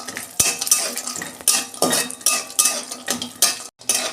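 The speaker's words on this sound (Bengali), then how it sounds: "আমি বড়িগুলো আগে ভেজে তুলে নেব" Lentil dumplings (bori) frying in oil in a wok, heard as close, repeated clinks and scrapes of a metal spoon against the pan over a faint sizzle, with no voices.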